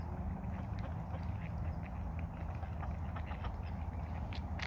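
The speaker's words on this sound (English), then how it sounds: "Look at all the coots out in the water." Coots gather out on a lake at sunset, their scattered calls faint and distant over a steady wash of outdoor wind and water noise.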